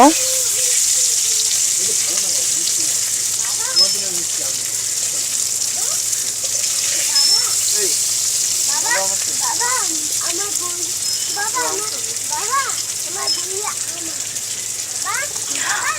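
Spiced paneer, coated in salt, turmeric and chili powder, frying in mustard oil in a pan, giving a steady broadband sizzle throughout with a voice talking over it.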